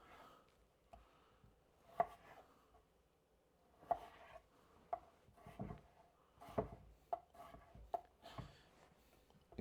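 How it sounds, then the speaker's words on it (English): Knife dicing starchy vegetables into spoonable chunks on a cutting board, for a monkfish dish: a series of separate, sharp chops at an uneven pace, close and moderately loud, with no talking. "So we're just going to dice them up."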